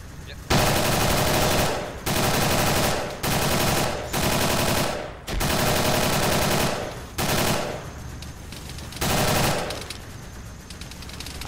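Heavy automatic gunfire from an Arma 3 Vietnam convoy battle rips out in about seven long, loud, close bursts separated by brief pauses.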